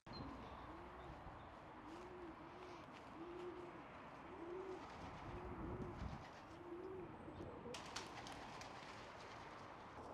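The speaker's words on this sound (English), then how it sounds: "it's become home to seemingly loads of pigeons" Pigeons coo over and over in an abandoned football stadium where England once played, a run of soft rising-and-falling calls against steady outdoor background noise, with no talk.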